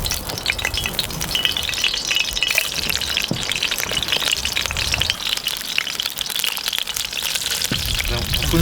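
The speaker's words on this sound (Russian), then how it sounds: "Сейчас карамелизуем лук, обжарим все это, а потом уже все остальное вольем" Onions fry and caramelize in a pan set over coals, a loud, dense crackling sizzle with sharp spits and pops throughout, close up, with a few spoken words faintly under it.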